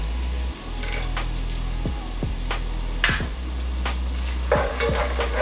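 Cardamom, pandan leaves, ginger and garlic fry in a pan with a constant close sizzle, broken by several scraping sweeps of a spoon over a low steady hum.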